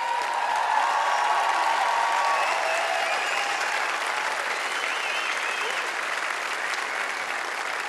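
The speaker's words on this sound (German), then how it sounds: "einen riesen Applaus hier vom Festival" A festival crowd at an open-air summer concert in Stuttgart applauds in the rain, a dense, even wash of clapping that holds steady throughout, with faint crowd voices mixed in.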